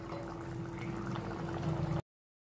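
Pot of potato curry, batata rassa, simmering on low flame with chopped coriander added, a close bubbling liquid burble for two seconds before cutting to silence.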